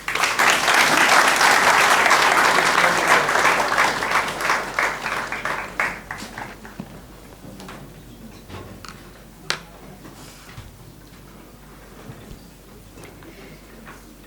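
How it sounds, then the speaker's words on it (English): An audience at a book launch gives a full round of applause, dense and loud at first, then thinning into scattered individual claps that fade out over about ten seconds. "A big round of applause for this beautiful reflection"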